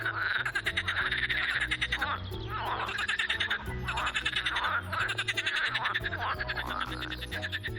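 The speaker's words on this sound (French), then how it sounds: "Comme vous pouvez l'entendre, c'est également la saison des amours chez les grenouilles." Chorus of frogs croaking in mating season, dense rhythmic pulsing calls repeating steadily and overlapping throughout, fairly loud and close.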